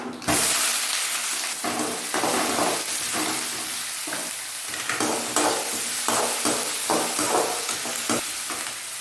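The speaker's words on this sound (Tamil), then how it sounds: "கடலைப்பருப்பு நல்லா செவக்கணும்." Chana dal fries in hot oil in a pan for Tamil thavala vadai, a steady loud sizzle with repeated stirring scrapes and bursts throughout, no voices.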